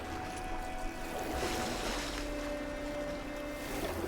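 A boat is rowed across water in the video game Detroit: Become Human, giving steady watery washing and lapping with a faint low background hum, continuous and without speech.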